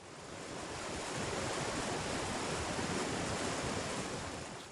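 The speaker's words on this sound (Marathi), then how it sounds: "प्रत्येक वाटेवर पुढे गेल्यावर दिसते ती म्हणजे खळखळ वाहणारी नदी" A gurgling river flowing along a forest trail at Karnala Bird Sanctuary, heard as a steady, dense wash of rushing water with no break or other sounds.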